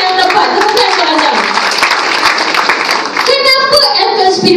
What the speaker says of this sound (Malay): Tepukan untuk anda.